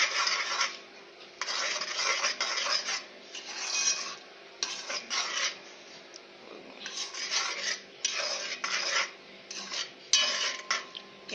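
Cheese mixture stirred with a utensil, giving repeated scraping, rasping strokes in bursts with short pauses, close and moderately quiet.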